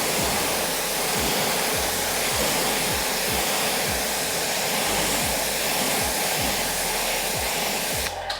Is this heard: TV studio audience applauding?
no